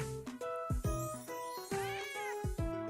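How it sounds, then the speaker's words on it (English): Cat meows in the video game Stella Sora, a quick series of several bright, clear meows in close succession, loud and alone without talk. "I love how there's that cat sound effect"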